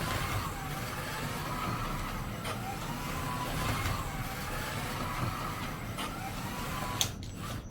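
A 1/43 scale slot car runs at full throttle on a Carrera GO track, a steady faint electric whine and plastic rattle circling continuously, with a small click near the end.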